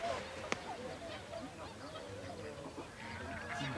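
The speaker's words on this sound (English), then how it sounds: "there's plenty of ducks out there as well" Ducks call on cold, partly frozen water, with a sharp honk near the start and softer quacking and honking scattered across a steady outdoor background.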